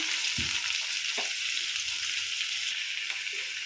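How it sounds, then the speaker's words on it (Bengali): Chopped green vegetables frying in oil in a wok, a steady bright hiss of sizzling with a few soft stirring knocks and clatters, close and continuous, without speech. "এবার কড়াইয়ে তেল দিয়ে সবজিটা বানিয়ে নেব। কেটে রাখা সমস্ত গ্রিন ভেজিটেবল আমি দিয়ে দিলাম।"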